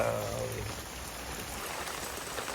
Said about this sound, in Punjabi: ਮੀਂਹ ਬਹੁਤ ਤੇਜ਼ ਪੈ ਰਿਹਾ ਬਾਹਰ